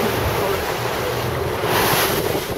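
Ocean waves wash steadily beside a fishing boat off Mississippi, a loud, close, continuous surf rush blended with wind noise across the microphone.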